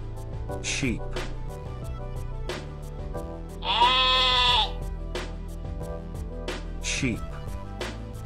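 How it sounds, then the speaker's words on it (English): A single sheep bleat, a wavering nasal call of about a second, sounds clearly in the middle over continuous background music. "Sheep."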